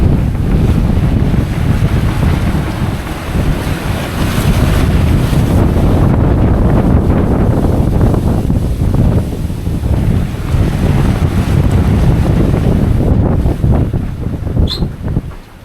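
Strong wind at sea aboard a sailboat between St. Barts and Sint Maarten in 30-plus knots, a loud, unbroken roar of gusts and rushing water against the hull, buffeting the microphone throughout.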